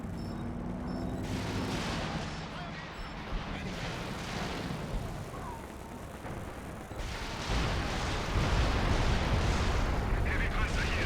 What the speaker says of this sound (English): Artillery primed and loaded.